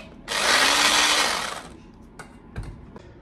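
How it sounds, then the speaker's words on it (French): A smoothie blender whirs loudly for over a second as it struggles to mix ingredients, then cuts out, followed by a few faint knocks and clicks. "c'est parti pour mixer le tout"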